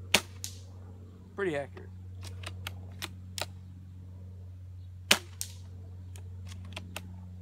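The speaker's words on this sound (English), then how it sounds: "it's time to shoot. I'm gonna be shooting at that tree." GF529 sniper rifle firing at a tree outdoors: a handful of sharp, separate cracks spaced over several seconds, one brief voice heard between shots over a steady low hum.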